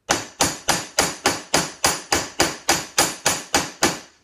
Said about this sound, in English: we're going to start hammering these rivets a little tighter